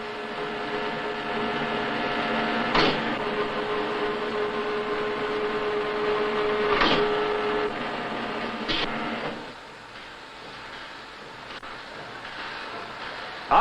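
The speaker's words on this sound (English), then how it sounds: "After hobbing, the gears are semi-finished by shaving." A gear shaving machine finishes semi-finished, hobbed gear teeth for Colchester lathes, giving a steady, loud mechanical drone with a tonal whine and a few sharp transients, easing to a quieter hum near the end.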